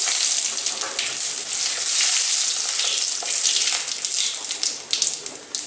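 Two dry red chillies and a bay leaf, added with mustard seeds and poppy seeds, crackle and sizzle in hot oil. The frying is steady and close, with a few sharper pops near the end.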